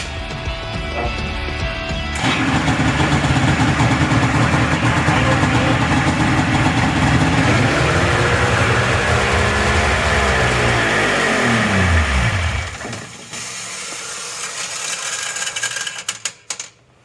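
Mach 1 snowmobile engine cranks and fires after a brief lead-in, holding a loud, steady high idle with revving harmonics for about ten seconds before it is killed and cuts out abruptly, leaving quieter rattling noise afterward.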